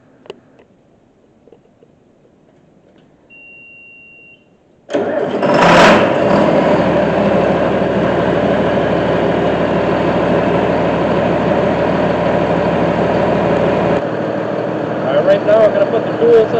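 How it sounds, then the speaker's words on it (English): A 4055 tractor engine cranks and catches around the five-second mark, then settles into a steady, loud, close idle that runs until near the end, with a quieter stretch before the start. "I'm going to hop in this tractor, turn it on, so the oil can circulate through the tractor."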